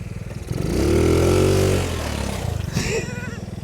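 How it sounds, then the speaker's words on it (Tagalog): A new toy motorcycle's small motor whines, rising in pitch and then falling away in one sustained rev, close to the microphone, with faint background noise before and after. "Malakas tong motor na to."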